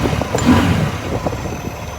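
Massimo Buck 200X EFI engine running after a key start, a close low rumbling engine idle with slight fluctuations over two seconds, no speech.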